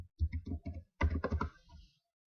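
Keys on a Chromebook keyboard tapped in two quick, close bursts of clicks with a short pause between them, then fading out.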